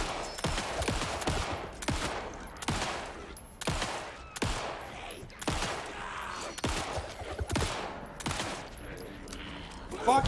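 Gunfire in the video game Alan Wake 2 comes as a series of about ten sharp, loud shots at an irregular rhythm, each with a short decay, close and prominent.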